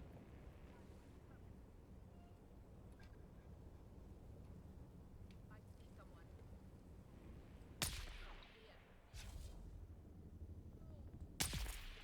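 Two sharp gunshots crack in the video game Dune: Awakening, spaced a few seconds apart over a low rumbling wind-like background.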